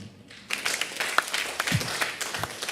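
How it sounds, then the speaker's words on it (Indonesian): Church congregation clapping hands during an Indonesian sermon, a scattered burst of applause that starts abruptly and continues steadily at moderate volume in a reverberant hall, with no talk over it. "Tepuk tangan."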